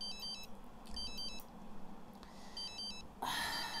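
A telephone rings in The Sims 3 video game, repeated short electronic trills in an on-off pattern over a soft ambient bed, closing with a brighter chime; no one speaks.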